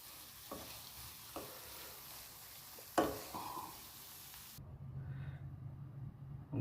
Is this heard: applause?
no